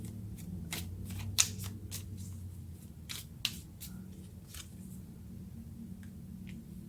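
Tarot cards shuffled and drawn by hand, a series of crisp, close riffling and slapping bursts spaced irregularly over a quiet low background hum.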